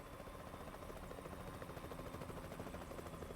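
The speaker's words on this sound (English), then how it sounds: "It's a chopper." A helicopter's rotor thumps steadily overhead in American Truck Simulator, a constant chopping drone at moderate distance with no voices.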